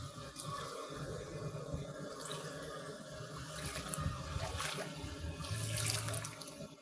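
Sea water at a beach in Sorsogon during high tide, a continuous sloshing, gurgling wash that swells slightly toward the end, fairly faint and with no voices.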